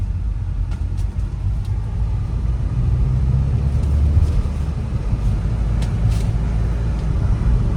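A 2020/21 MG Hector Plus diesel with a manual gearbox pulls away and accelerates on the road, heard from inside the cabin as a steady, loud low engine and road rumble with no talk.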